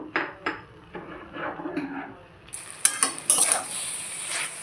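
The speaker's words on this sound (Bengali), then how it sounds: "এবার নাড়িয়ে চাড়িয়ে নেব।" Grated coconut is stirred into banana flower curry in a pan, with a spatula giving a series of close scrapes and taps, followed by a steadier hiss of sizzling in the second half.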